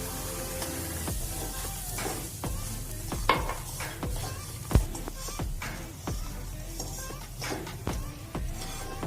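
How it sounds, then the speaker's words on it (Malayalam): Semolina sizzling and scraping in hot ghee in a pan as a spoon stirs it, with sharp metallic clinks of utensil against pan. "അതേ നെയ്യിലേക്ക് റവ ഇട്ട് വറക്കാം."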